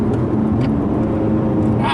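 A 2017 Lotus Evora 400 engine revs steadily under throttle from inside the cabin, a continuous low droning roar with a slight rise near the end and faint voices underneath.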